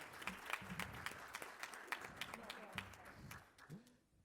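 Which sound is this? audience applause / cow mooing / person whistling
audience applause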